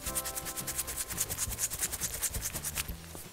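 Toy Paw Patrol pup figures are scrubbed with shampoo during a bubble bath, a close, rhythmic wet rubbing in fast even strokes with a squeaky edge, no voices over it.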